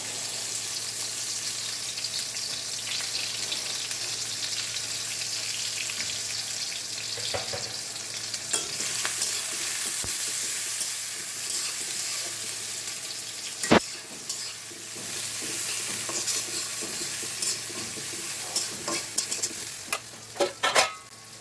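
Onions frying in oil in a pan for a red amaranth and prawn curry, a steady close sizzle running throughout, with scattered scraping stirs and a few sharper clicks of the spoon against the pan.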